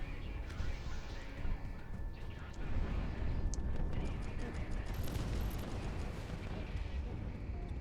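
A battleship exploding and sinking in the video game Project Wingman, heavy rolling blasts and crackling booms layered over a constant roar of jet engine noise.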